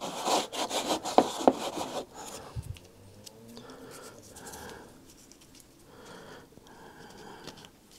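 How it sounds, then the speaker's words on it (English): Paper being rubbed by hand on both sides during a watercolor townscape session, giving loud brisk close scrubbing strokes at first, then softer intermittent rubbing. "So I should rub it like this."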